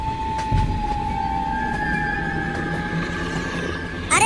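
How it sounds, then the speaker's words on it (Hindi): A train runs along the rails with a steady rumble, a sustained wheel squeal or whistle-like tone and occasional clatter, close and continuous, with no talking. "चिंटू, ट्रेन को रोकना मत, नहीं तो हम सब भी ज़ॉम्बी बन जाएंगे।"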